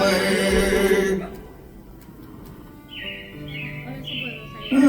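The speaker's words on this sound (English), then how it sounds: "It looks like the Robins are getting ready to celebrate Valentine's Day today." Robin chirps ring out as a Carousel of Progress attraction effect at Magic Kingdom, Walt Disney World, a few short high tweets following the end of music, clear over a soft background.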